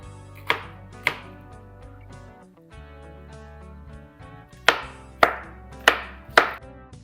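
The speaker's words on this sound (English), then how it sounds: "The first thing we're gonna do is basically chopping our capsicum." Knife chopping capsicum into small cubes on a cutting board, a few sharp close knocks near the start, a quiet pause, then four more evenly spaced chops toward the end, with low steady background hum.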